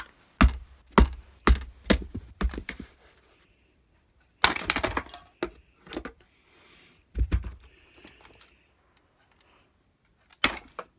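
Keys on a LEGO computer keyboard click in quick bursts of sharp plastic taps separated by short silent pauses, close and dry.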